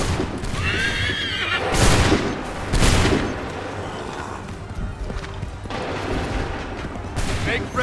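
Massed musket volleys crack out in Assassin's Creed 3's Battle of Bunker Hill, two big bursts followed by scattered shots, with horses whinnying and battlefield commotion all around.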